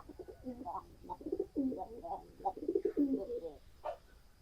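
Pigeons pecking at soil on the ground give a run of soft, close cooing calls, several coos in quick succession, fairly quiet against a calm outdoor background.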